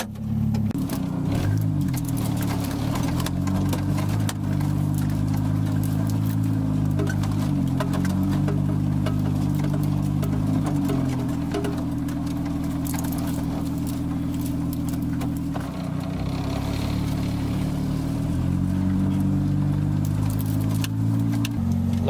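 A GO4RIDER small motorized ride-on vehicle with a coaster brake runs steadily, its engine droning loud and close for the whole stretch with slight shifts in pitch as it putts along, no talking.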